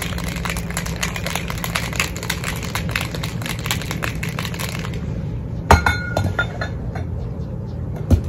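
A margarita with pineapple juice is shaken hard with ice in a cocktail shaker, giving a loud, fast, rhythmic rattle of ice that stops abruptly, followed by a few sharp clinks and scattered knocks.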